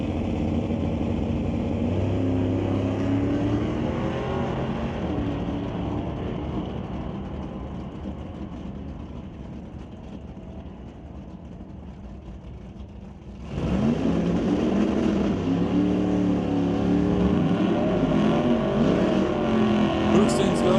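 Chevy and Ford hot rods roar through a drag race. Engine noise holds steady, fades somewhat, then jumps suddenly louder and closer as the cars launch and pull away.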